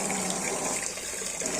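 Water rushes steadily through an iron guard water softener during its final rinse cycle, a continuous broadband hiss like a running tap, close and fairly loud with no pauses and no voices.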